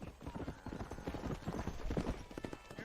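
Horse hooves clip-clop steadily at a walking pace in the Red Dead Redemption video game, a close, continuous rhythmic clatter with some voice-like sound mixed in.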